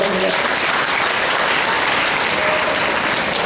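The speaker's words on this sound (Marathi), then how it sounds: "जोरदार टाळ्या" Loud, dense applause from a crowd at a sugar factory gathering fills the whole stretch evenly without pause.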